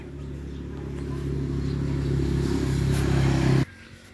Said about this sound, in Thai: ดูฟังเสียงเครื่องกันครับ